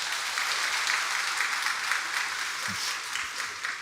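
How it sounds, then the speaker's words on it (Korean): Steady applause from a seated audience at a Korean network-marketing corporate presentation, a broad even wash of clapping held at constant level throughout, with no voices over it. "우리 박수 한번 쳐드릴까요?"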